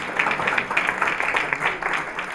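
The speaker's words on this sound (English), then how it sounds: "Let us give them a round of applause to Manoj and Geeta" Audience applause for Manoj and Geeta at a South Asian film festival speech, a steady wash of many hands clapping at moderate volume for a couple of seconds.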